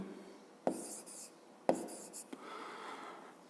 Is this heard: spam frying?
no